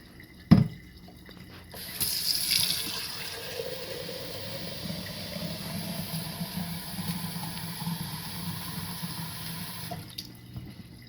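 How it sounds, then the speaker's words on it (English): A tap turns on after a sharp clunk, and warm water pours steadily into a container for homemade laundry detergent, its pitch rising gently as it fills, then stops. "So now we fill the rest of it up with warm water."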